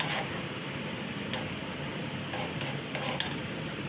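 A spoon stirs baby porridge in a pot, village-style, scraping and tapping faintly against the metal at irregular moments. A low, steady background noise runs underneath, and no one speaks.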